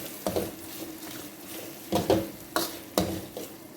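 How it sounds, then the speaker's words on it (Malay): Fried anchovies and dried shrimp are tossed through a pan with a utensil, giving repeated scraping and clinking strokes in an uneven rhythm over a light sizzle, no talking. "kita punya bahan-bahan gorengan kita tadi tu ya, ikan bilis dan udang kering, dan kita gaul lah"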